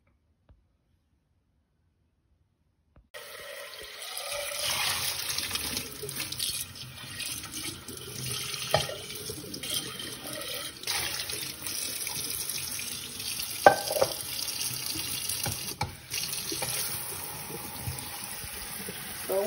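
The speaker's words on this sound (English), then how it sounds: "just try to rinse off as much of the, baking soda as I can, that might have still been on the actual bean" Tap water runs steadily into a kitchen sink as lima beans are rinsed free of baking soda, a constant splashing stream starting after three seconds of silence and continuing without talk.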